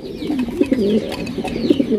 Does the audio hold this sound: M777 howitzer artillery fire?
no